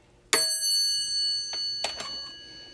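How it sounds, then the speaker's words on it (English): A Westinghouse dinner bell is struck with a soldering iron, giving one sharp ring that sustains and slowly decays, followed by a softer tap and a couple of faint knocks. "Westinghouse dinner bell."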